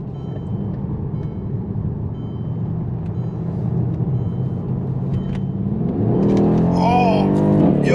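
A Mercedes-Benz AMG E63 with a 5.5-liter biturbo V8 rumbles deeply from inside the car, then surges into hard acceleration near the end, its engine note climbing steeply in pitch and loudness.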